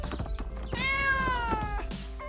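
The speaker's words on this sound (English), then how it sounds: "The cat is also interested." A cat meows in a long, drawn-out cry with a steady tone, close and clear over a faint background of light knocking and movement.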